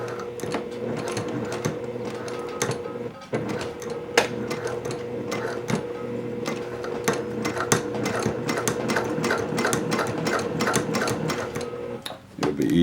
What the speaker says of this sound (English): I'll back stitch here at the beginning and end to make sure the stitch stays.